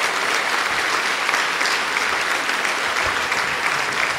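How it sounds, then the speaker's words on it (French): Large audience applauding after a lecture on La Fontaine's fables, a loud, dense, continuous roar of clapping that holds steady from start to finish without any voices over it. "Oui, vous pouvez l'applaudir."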